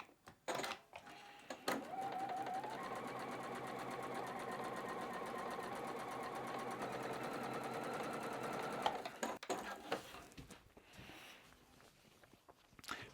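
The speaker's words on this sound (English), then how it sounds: "I'm just going to go ahead and sew on now just the rectangle itself" A sewing machine stitching a fabric rectangle for a quilted rosette, a quiet steady fast needle whir running for about seven seconds between brief handling clicks, no talking.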